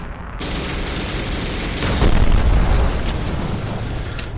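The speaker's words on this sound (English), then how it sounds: "You get these lock-on missiles," Missiles fire from a MiG-29 Fulcrum jet in the Roblox game War Tycoon, with a steady roaring rush that swells into a deep booming explosion and sharp pops, then fades away.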